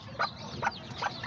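Silkie chickens cluck in a short series of three or four close, distinct calls spaced about half a second apart, with quiet ambient noise between.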